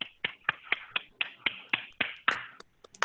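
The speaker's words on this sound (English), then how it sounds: "give Matt a round of applause" A handful of people clap for a speaker at the end of a workplace mental health talk, giving about a dozen sharp, sparse claps in an uneven rhythm that quickly thins out.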